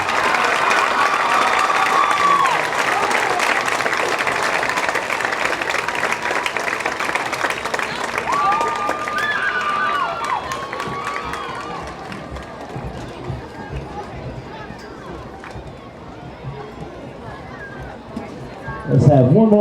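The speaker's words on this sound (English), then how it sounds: "Let's have one more round of applause for the king, queen, and the court, and all the participants." A crowd at a 2016 high school homecoming football game keeps up sustained applause and cheering for the homecoming king, queen and court, a broad, steady roar of clapping that eases off midway and then swells again at the end.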